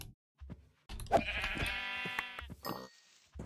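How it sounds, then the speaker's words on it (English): Sheep bleat in the Minecraft modpack Sky Factory 3, with a few short game sounds followed by one long, wavering bleat, clear and close, and no speech. "I'll kill the gray sheep, just the white sheep."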